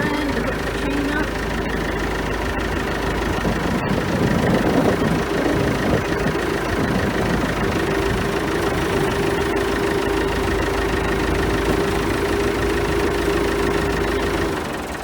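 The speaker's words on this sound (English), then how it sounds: "pulling the tractor in to hook the chain up" A tractor engine idles steadily at close range, holding a constant low rumble with a slight knock for the whole stretch while a home building site is prepared.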